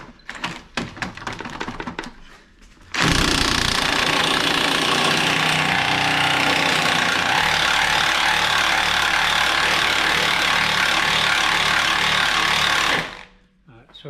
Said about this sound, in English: Hopefully this one will come undone a bit better because we can get the gun directly on it.